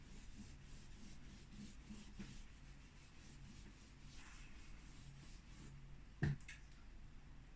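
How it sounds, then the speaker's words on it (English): Eraser rubbing over charcoal and chalk pastel on paper, a faint, continuous scratchy friction in repeated strokes, quiet and close, with one small tap near the end. "I'm using my eraser here to do a little blending, cursory blending."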